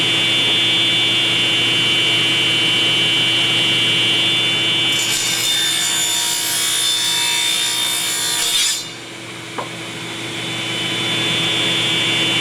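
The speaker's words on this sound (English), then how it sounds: "Cut a little block in half." A table saw rips through a small wooden block, a bright high-pitched cutting whine rising for about four seconds over the steady hum of the running saw, then dropping away as the cut finishes.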